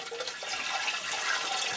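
Green waste water poured out of a Thetford Porta Potti 92306 portable toilet tank, a steady broadband splashing gush that runs continuously and fairly close throughout.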